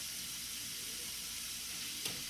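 Whole spinach leaves sizzle steadily in a hot pan, a dense, even frying hiss throughout with one brief sharper crackle near the end.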